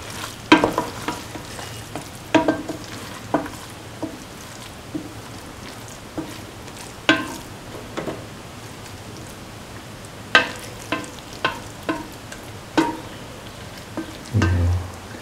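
Cauliflower, potato and rice are stir-fried together in a pan, a low sizzle running underneath as a spatula scrapes and clinks in irregular strokes, some close and sharp, others softer.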